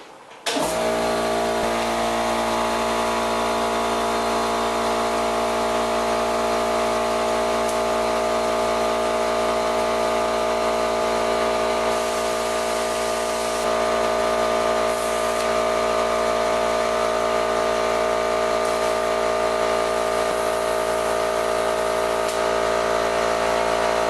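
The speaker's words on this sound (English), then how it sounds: "I'll fire up the compressor just to put about 50 pounds in this one." An air compressor inflates a bicycle tire to about 50 PSI, starting abruptly and then running as a loud, steady motor drone with a constant hum for over twenty seconds, with no voices.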